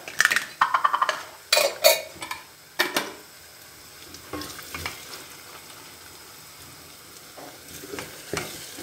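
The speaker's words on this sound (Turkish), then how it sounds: "Salçamız güzelce kavruldu." Tomato paste and chili frying in a pot, a loud burst of spoon clatter against the pot at first, then a steady, softer sizzle carrying on alone.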